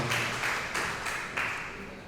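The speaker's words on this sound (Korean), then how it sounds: "하나님께 영광을 박수 올려드립니다." A church congregation claps together in praise to God during a Korean worship service, a broad wash of applause with a few surging swells, fairly distant and steady.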